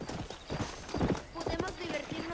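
Horse hooves clip-clop at a steady trot in the Western video game Red Dead Redemption, rhythmic and close, under continuous talking.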